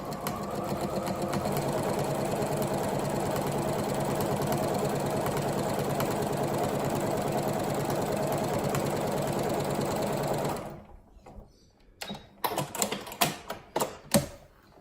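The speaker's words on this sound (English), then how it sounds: "then just sew down one side" Sewing machine stitching a quarter-inch seam down one edge of fabric for a pinwheel quilt block, a steady close whirring run for about ten seconds, then stopping into a few scattered handling clicks and taps.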